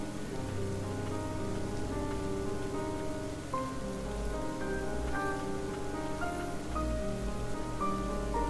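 Rain falls in the video game Ender Lilies, a steady soft patter under sustained, melancholy game music with held tones, even and unbroken across the whole stretch, no voices.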